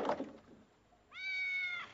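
A cat meows once, a clear, tonal, drawn-out cry that follows a brief muffled noise and a short quiet gap.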